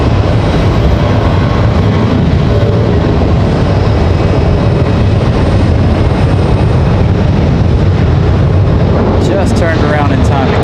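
A Delta CRJ jet doing a go-around at Raleigh-Durham airport while an American 737 still occupies the runway, a loud, steady engine roar close by that holds throughout, with a faint whine rising near the end.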